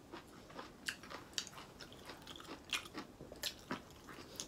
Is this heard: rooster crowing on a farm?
no